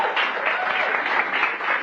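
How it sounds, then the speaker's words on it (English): Loud, sustained applause from a crowd at McDonald's Future 22 celebration at the Ritz Carlton during Essence Fest 2022, dense clapping holding steady throughout, with possible faint voices mixed in. "Let's give them a round of applause"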